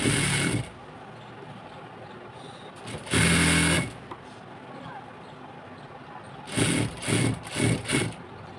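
Sewing machine stitching elastic into a palazzo waistband, running in short bursts: one brief whir, a longer run, then several quick stitching spurts separated by pauses and faint handling noise.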